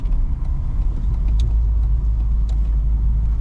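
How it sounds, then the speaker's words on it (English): Loud, steady exhaust drone from a 1993 Volvo 240 with a suspected muffler leak, a continuous low rumble running close and unbroken with no talking. "the exhaust is a little louder than it should be. There must be a leak in the muffler"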